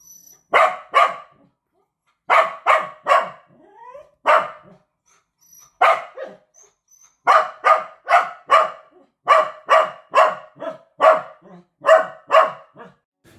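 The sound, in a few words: newly adopted dog barking repeatedly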